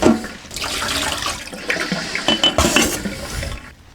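Mugs of Easter egg dye being emptied one after another into a kitchen sink, splashing liquid mixed with clinks of ceramic against the basin, loud and close, in several uneven bursts.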